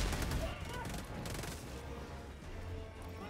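Cannon turret firing in Helldivers 2 amid a dense battle, heavy repeated booming shots and crashing impacts layered into a continuous loud barrage with no clear gaps.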